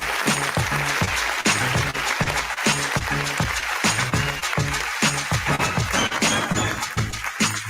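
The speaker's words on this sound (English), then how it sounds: "June, you won for yourself an applause" Studio applause sound effect on a morning radio show, a loud continuous wash of clapping with a steady pulsing rhythm running the whole time.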